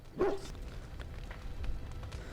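A single short dog bark rings out near the start in Dragon Age: Origins, moderately close, followed by quiet ambient game background.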